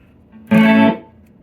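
An electric guitar note run through a simple chorus pedal, a single sustained shimmering tone lasting under half a second, fairly loud and alone, then fading out.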